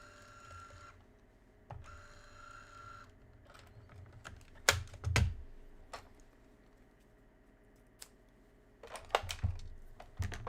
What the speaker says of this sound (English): on the first line, I'm going to type out Spellbinders and Opal